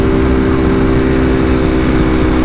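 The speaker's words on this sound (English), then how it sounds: "it's ridiculously loud racing exhaust" A sport bike with a loud racing exhaust drones steadily at close range, a thick, even engine tone with no breaks and no talk over it.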